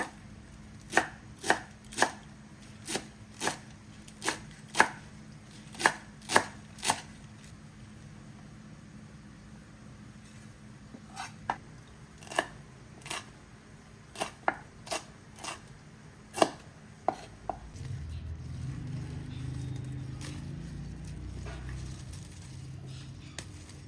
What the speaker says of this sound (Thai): ผักชีต้นหอม ผักชีฝรั่งนะคะสามอย่างค่ะ หั่นพร้อมกันเลยนะคะ